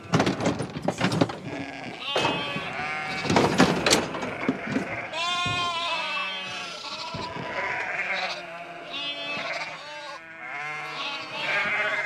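Sheep bleat repeatedly in a close farm setting, several loud overlapping calls early on, then a long wavering bleat with quieter ones following, while people talk faintly in the background.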